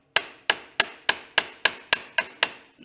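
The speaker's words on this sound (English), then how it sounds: "It's just a little bitty hammer. I'm just giving it a tap here, and it is moving." A small hammer taps a sealed front wheel bearing on a Piaggio MP3 scooter, nine sharp, close metallic strikes at an even pace of about three per second, with no talk.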